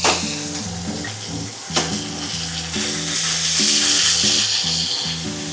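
Oxtail meat browning in a big pot sizzles steadily up close, with a brief clatter near the start, all beneath a looping music bed.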